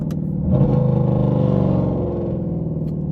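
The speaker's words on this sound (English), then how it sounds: "Fifth to fourth is always a crispy shift." A Mercedes W204 C63 507 Edition downshifting from fifth to fourth at speed gives a loud engine note that swells briefly and then settles into a steady, throaty drone, with no voices.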